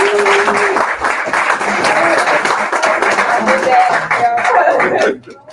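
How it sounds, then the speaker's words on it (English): A live audience claps for panelists at a Black hair representation celebration event, with dense applause running steadily under a voice until it cuts off near the end. "let's give another round of applause"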